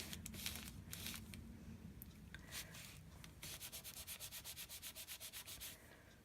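Masking or washi tape coated with sealer being rubbed with a wet baby wipe, close scrubbing strokes that turn into a quick rhythmic back-and-forth run of about a dozen rubs, no talking.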